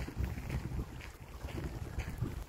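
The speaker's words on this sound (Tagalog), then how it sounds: "Medyo mahangin." Gusty wind blows steadily across an open lakeside, a continuous low rumble of buffeting against the microphone with no voices heard.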